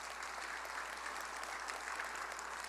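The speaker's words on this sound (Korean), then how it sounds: "이 박수를 치는 사람은 센스가 있는 사람인데 참 대단한 거야." Church congregation applauding during a sermon, continuous even clapping heard at a distance, faint and steady throughout.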